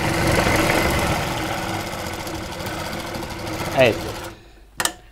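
A sewing machine runs steadily while stitching a straight seam on a blouse, then stops, followed by a short burst of stitching. A voice speaks briefly over it.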